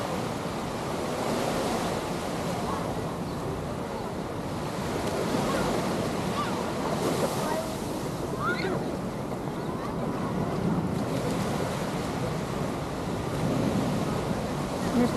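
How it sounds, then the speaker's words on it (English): Ocean surf rolling in on Waikiki Beach, a constant broad wash of breaking waves with wind buffeting the microphone, steady throughout with no talking. "Listen, ASMR on the wave."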